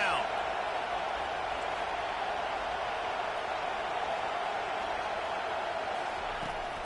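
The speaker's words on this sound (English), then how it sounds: "Decibels rising as the crowd gets behind this defense on third down." Stadium crowd roaring steadily at a college football video game as fans back the defense on third down, a loud continuous wash of cheering with commentary talking over it.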